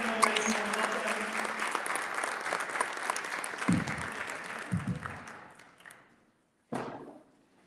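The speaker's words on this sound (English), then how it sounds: "Please give a round of applause for Courtney here" An audience at a San Diego Pride leadership meeting applauds in a dense, close burst of clapping that fades to silence, followed by a few scattered thumps and one last short round of claps.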